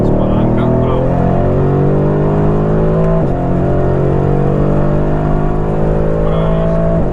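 A Mercedes-AMG A 45 S at full throttle on a racetrack, its engine note climbing steadily and loud through the gears, with one brief dip for a shift partway through. A driving instructor talks over the engine.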